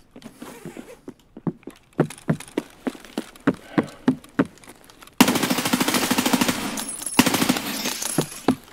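Escape From Tarkov gunfire: a string of sharp single shots at a steady pace, then a loud sustained burst of rapid automatic fire with a brief pause.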